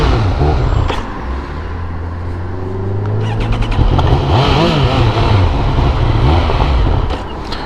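A Triumph Speed Triple 1200RS motorcycle engine running low on petrol, a loud close engine note with low rumbling and rising revs, plus wind noise.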